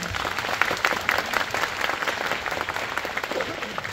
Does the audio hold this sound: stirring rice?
no